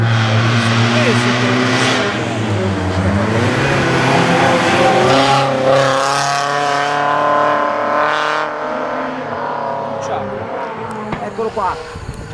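A BMW 318 IS race car accelerates hard past onlookers at a hillside slalom, its engine note rising in clear harmonic sweeps before fading, with people talking nearby throughout.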